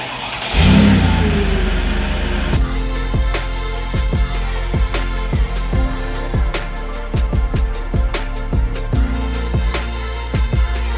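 An SUV engine starts with a loud burst, then revs and pulls away over repeated sharp transient knocks and clunks nearby, without speech.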